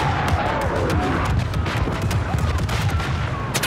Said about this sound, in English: Airstrike. These things look amazing.